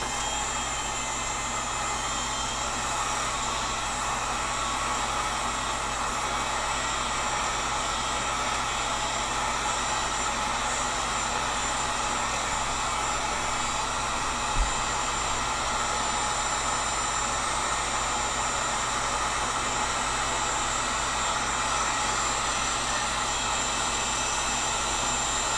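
A heat gun blows steadily on a Tatar bow limb, one continuous, loud, even whoosh with no break and no talking.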